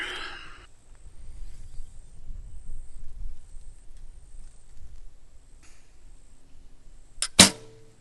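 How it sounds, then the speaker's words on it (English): A Hoyt GMX 3 recurve bow shot in target archery at 70 meters: a sharp, bright snap of the release near the end, after a quiet stretch of faint rustling and a short burst of noise at the start. "the bow definitely made a weird sound on that one"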